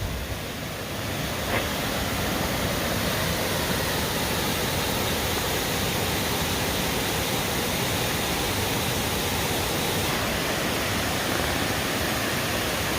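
Steady broadband roar of water pouring down Amicalola Falls on the Appalachian Trail, a constant, dense rush filling the whole stretch with no voices.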